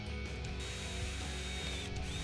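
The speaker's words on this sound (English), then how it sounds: "we'll drill the two 3/16 holes through the drill guide and through the fork guard" A power drill fitted with a 3/16 inch bit bores two holes through a drill guide and a motorcycle fork guard, giving a steady, close, continuous mechanical grind with no talk.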